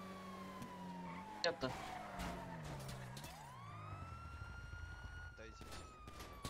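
A police car siren wails in GTA during a bank robbery, its pitch sweeping down then rising again, loud and close, while excited voices talk over it.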